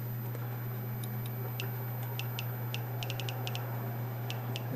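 A Geiger counter clicking near radium-painted watch hands, about a dozen sharp irregular ticks spread across a few seconds over a steady low electrical hum.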